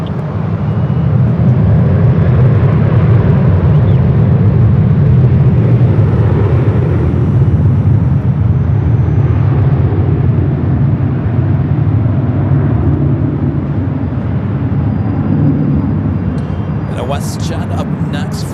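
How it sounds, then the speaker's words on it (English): Loud, broad roar of an Alaska Airlines Boeing 737-800 arriving from Seattle and landing at LAX, sustained throughout, with a voice talking over the engine noise. "This is Alaska Airlines 1306 coming in from Seattle on the"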